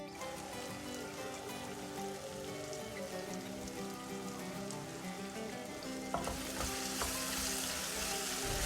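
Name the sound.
cashews sautéing with ginger garlic paste in a pan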